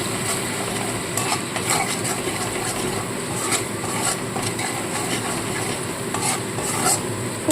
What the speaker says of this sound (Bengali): ভালো করে মশলাটা কষাতে থাকবো